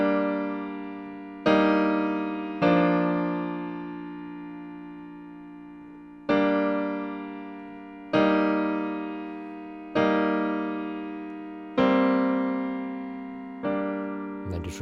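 A piano plays the left-hand part of a song alone, sustained chords struck one at a time every couple of seconds and each left to ring and fade, close and clear with no voices.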